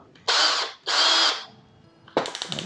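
HYCHIKA 18V cordless hammer drill driver running at an adjusted torque setting, two close whirring bursts of about half a second each separated by a short pause, then a third rattling start with pulsing spin-up.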